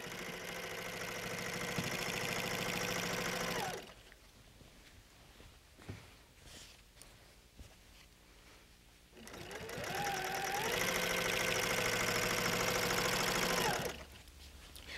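Sewing machine quilting a quilt: a loud, steady whirring stitch run for about four seconds, a pause with small handling clicks, then a second long run, all close up without talk.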